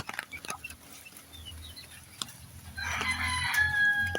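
Chickens in a coop on a rainy day cluck softly and scattered, then a rooster lets out a loud crow near the end, with a steady patter of rain beneath.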